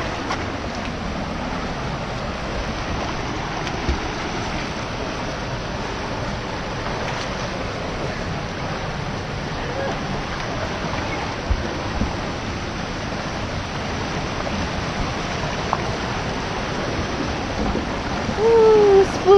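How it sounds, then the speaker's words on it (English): A person swims in water among sharp rocks, with a steady close wash of moving water and a few soft splashes, and a louder burst near the end. "A little bit more swimming."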